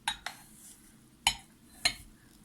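Halva being stirred in a pot, giving a few sharp clinks of utensil against the pot, four distinct knocks spread out over quiet background, fairly close and moderately loud.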